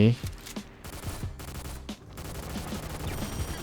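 Rapid bursts of gunfire from the shooter game XSHOT, with repeated sharp shots and a fusillade-like rattle running throughout, loud and close, with a voice speaking over part of it.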